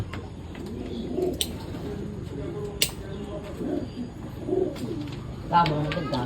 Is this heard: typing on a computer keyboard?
no